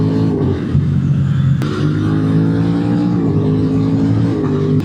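Aprilia RS660 motorcycle with a restricted A2 engine accelerating on Paris streets, a loud steady engine drone with rising harmonics that levels off as the bike stops pulling, close and continuous without talk.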